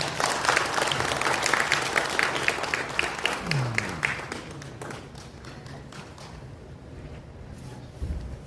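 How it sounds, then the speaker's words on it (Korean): Audience applause at a book concert, a broad wash of clapping that is strongest at the start and thins out toward the end, with voices murmuring underneath. "여러분 박수 좀 부탁드리겠습니다"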